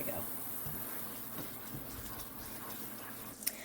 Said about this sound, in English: So you can see as it's boiling and getting up temperature, it's rising up the pot.